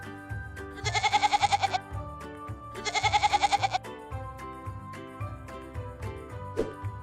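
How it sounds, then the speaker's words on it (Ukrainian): A cartoon goat riding in a tractor trailer bleats twice in long, wavering cries over a light musical backing, with a short pause between them. "Коза каже ме."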